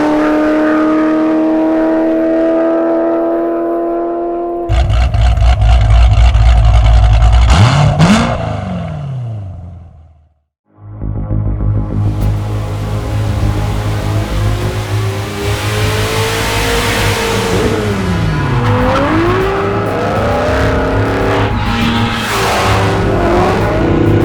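A supercharged Corvette Grand Sport engine revs loudly, lifts off into a brief silence, then roars hard through the gears, rising in pitch with each upshift during a run to 140 mph.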